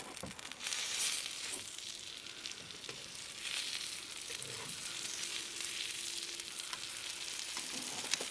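A thick steak sizzles on a hot Himalayan salt block, a continuous bright frying hiss with occasional pops and faint scraping, steady and close throughout with no talking.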